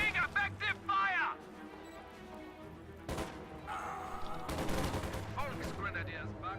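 Gunfire crackles in a World War II strategy game battle with flak half-tracks and infantry, bursts of shots and a heavy blast mid-clip over a steady din, while a commentator talks throughout.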